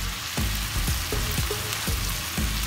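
Shiitake mushrooms fry in a hot pan with a constant, close, loud sizzle, broken by a few soft knocks of stirring.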